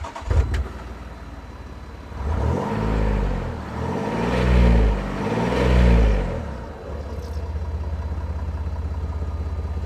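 Kahn-customised car engine with a custom exhaust, idling then revved three times in swelling, rising-and-falling bursts before settling back to a steady idle, heard loud and close with no talking.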